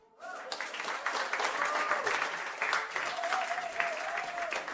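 An award-ceremony audience breaks into sustained applause after a winner is announced, with dense clapping that swells in quickly and holds steady while faint voices and tonal sounds run underneath.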